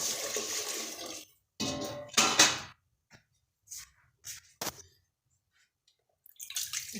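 Water poured into steamed couscous with alfalfa in a home kitchen, arriving in short splashing bursts separated by silences, with a final brief pour at the end.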